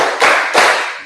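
A classroom group claps hands together in counted bursts, two broad, close claps ringing out about a third of a second apart during a teacher's clap-count routine.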